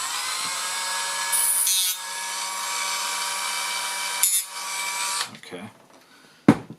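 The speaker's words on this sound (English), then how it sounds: "I'm going to use this Dremel tool for this purpose, and let me just mark a couple of little notches." A Dremel rotary tool whines at high pitch, cutting in with short bursts as it marks small notches in a telescope hand controller, with a few brief pauses and scraping contact sounds; a voice speaks briefly near the start.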